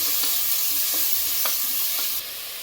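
Sliced onions sautéing in a pan for prawn biryani give off a steady, loud sizzle, broken by a few sharp scrapes of stirring. No one speaks.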